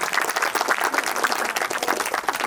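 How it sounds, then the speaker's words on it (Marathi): An audience at a school reunion for a 10th class 2003-04 batch claps together in dense, steady applause from start to end, close and fairly loud, with no speech over it. "या सर्वांसाठी प्रत्येकाने पहिल्यांदा टाळ्या वाजवून त्यांचं स्वागत करूया."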